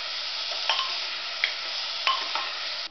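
Sambar ingredients roast in a pan with a steady bright close sizzle and occasional clicks of a spoon stirring, no voices.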